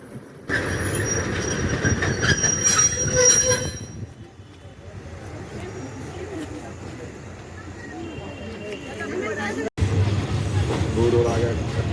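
Kishoreganj Express passenger train from Dhaka arriving at Methikanda railway station, a loud rumbling roll with squealing wheels that eases to a lower idle, under talk.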